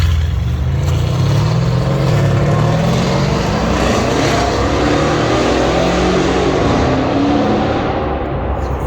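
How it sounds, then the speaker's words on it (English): A loud, deep Mercedes E63 AMG S engine with a full aftermarket exhaust rumbles steadily with a throaty exhaust note, rising and falling slightly as it idles and revs nearby, with no talking. "As you can hear it, full I did a exhaust. full exhaust on the car."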